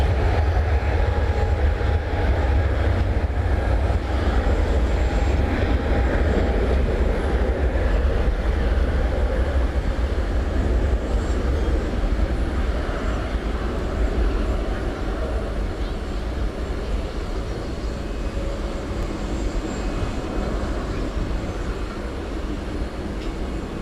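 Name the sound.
Boeing 747-8 taking off at night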